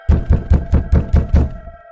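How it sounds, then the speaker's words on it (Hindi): Six heavy, evenly spaced bangs pound on a house door in a horror animation story, loud and close with a booming low thud, followed by a fading hum. "कालू के घर का दरवाजा जोर जोर से पीटने लगते हैं"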